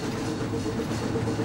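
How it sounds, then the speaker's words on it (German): The Molli narrow-gauge steam railway on 900 mm track, running at about 50 km/h along the Baltic coast, gives a steady rumble and rolling clatter that stays even and fairly loud throughout. "Mit der zugelassenen Höchstgeschwindigkeit von 50 km pro Stunde ist der Zug jetzt entlang des Ostseestrands unterwegs"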